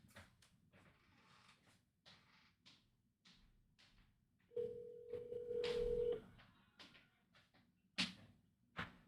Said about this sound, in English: Echo, call my phone.